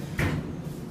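Otis Elevonic 401 traction elevator doors, later modernized by Otis, slide shut at 100 Yonge Street, Scotia Plaza: one short, close thud and brief rumble, then quiet.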